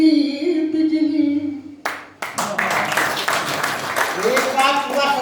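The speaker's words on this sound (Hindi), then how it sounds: "एक बात पूरा सदन जोरदार ताली बजा दो साहब को" Audience applauding at a Hindi poetry gathering: a burst of lively clapping breaks in after a sustained voice and continues strongly, with talk rising over it near the end.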